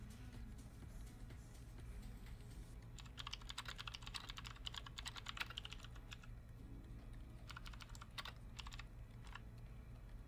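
Quiet clicking keystrokes on a new computer keyboard, coming in irregular bursts of fast typing with short pauses, close to the mic over a steady low background hum and no speech.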